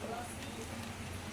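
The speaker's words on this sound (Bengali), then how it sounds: "প্রচুর বৃষ্টি হচ্ছে" Heavy rain falls steadily outside as a dense, even hiss throughout a short stretch, heard from indoors in a home kitchen.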